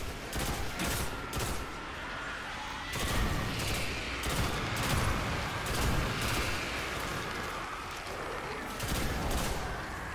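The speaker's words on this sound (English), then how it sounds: "pretty standard, just pulse rifle shots here" Pulse rifle fire in Destiny, a Warlock fighting enemies in a Nightfall mission: bursts of shots repeat steadily over continuous game noise, with explosions mixed into the dense action.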